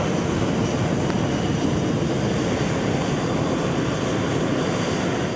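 Military warplane engines run steadily at idle before taxiing, a dense, continuous loud roar with a high whine on top, holding even throughout with no voices.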